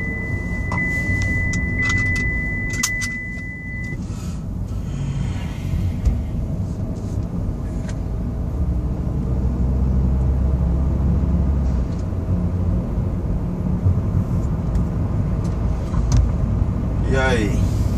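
Cabin rumble of a GM Sonic car being driven around Maceió, heard from inside as a steady, loud low drone with a few brief chirps and clicks early on and faint traffic noise.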